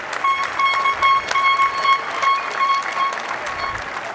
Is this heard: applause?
yes